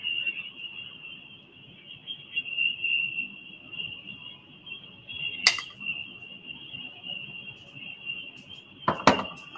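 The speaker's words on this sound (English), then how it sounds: "The crickets you hear are actually out here." A steady, high-pitched cricket trill runs throughout, fairly faint, with a couple of sharp clicks breaking in near the end.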